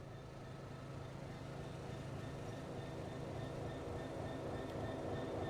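A freight train in a video game, pulled by a Class 66 locomotive, rumbles steadily past with a low, continuous rolling drone and faint high whine, fairly close and unbroken throughout.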